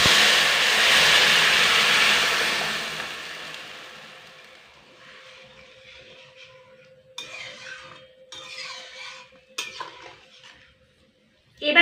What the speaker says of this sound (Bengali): এবার ঝোলটা এর মধ্যে ঢেলে দেব